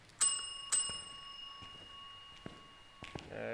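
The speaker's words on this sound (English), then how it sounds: "Ring the bell." A bell rings in the video game Phasmophobia, two sharp bright dings in quick succession that leave a long ringing tail, followed by faint knocks and footstep-like clicks.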